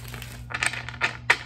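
Tarot cards being shuffled by hand at close range: three or four short, papery riffling bursts separated by brief pauses over a low steady background hum, with no talking.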